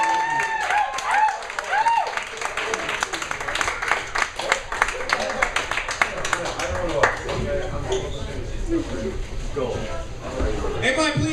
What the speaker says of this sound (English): please give a big round of applause for Aaron Torres.